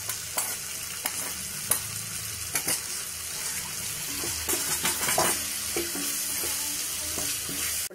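Mushroom fried rice being stirred in a hot frying pan: steady close sizzling with repeated scraping and clinking of a spatula against the pan, continuous throughout with no voices.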